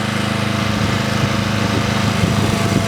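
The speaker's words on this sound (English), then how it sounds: "I will turn off my engine" A Marathon MM100PT mastic mixer's engine runs steadily. It gives a loud, even drone like a small motor at constant idle, with no pauses or voices.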